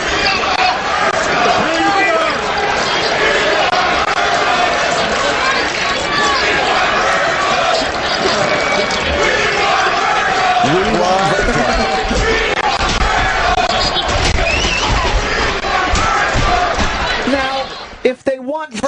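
A recorded wrestling arena crowd reacts to the Million Dollar Man with a loud, continuous roar and a busy mix of cheering and shouting voices that lasts about eighteen seconds before cutting off.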